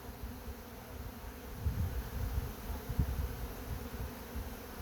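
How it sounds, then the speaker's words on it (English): Honey bees fly around a hive, a dense close buzzing hum that swells and fades as individual bees pass near, steady throughout with no voices. "all the bees that you see flying here will go back into that hive"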